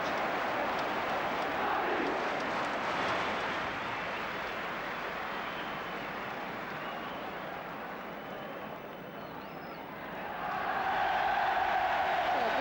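Football crowd at a Liverpool home match cheering a goal by Kenny Dalglish, a broad sustained roar that dips slightly midway and swells louder again near the end, with no clear talk over it.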